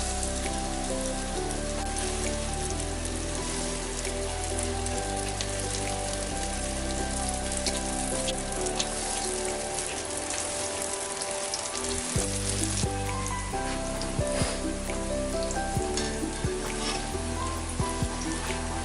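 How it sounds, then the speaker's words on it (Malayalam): Idli pieces dipped in batter fry in hot oil with a loud, steady, dense sizzle and crackle that continues throughout, close up and with no talk. "എന്നിട്ട് ഇത് ബാറ്ററിൽ മുക്കി നമുക്ക് ഫ്രൈ ചെയ്യാം"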